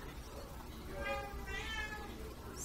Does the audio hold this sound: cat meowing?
yes